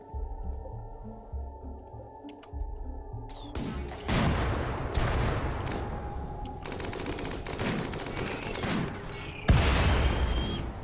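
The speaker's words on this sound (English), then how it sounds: "Alright, Greenhagen, why don't you go ahead and take the shot" A sniper shot in the game Rimworld fires at a mech ship, sounding as a series of sharp gunshot cracks and heavy blasts that recur across the clip, with rumbling impacts and a loud hit near the end.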